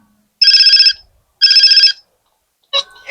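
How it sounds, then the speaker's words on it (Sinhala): Two bursts of an electronic phone ringtone in GTA San Andreas, each about half a second long and separated by a short gap, followed by a brief fainter chirp; no voices. "ඉතින් මෙතනින් අද අපිට කෝල් එකක් එනවා"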